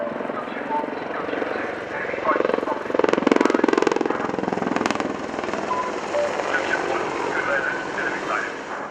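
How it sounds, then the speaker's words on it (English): An Apache attack helicopter hovers overhead during an airshow, its rotor and engine making a steady loud drone with a rhythmic blade chop that swells briefly, while a commentator talks over the public address. "now Gunship 1 forms a bunch in the overhead to confirm the target's destruction"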